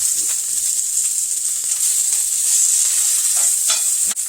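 Asparagus sizzling in a pan, seasoned with pepper and kosher salt, giving a steady bright hiss throughout with a few soft clicks near the end, close and even, no talking.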